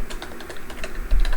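Rapid clicking of keys on a computer keyboard, close and steady, with irregular keystrokes running throughout and a slightly heavier burst near the end.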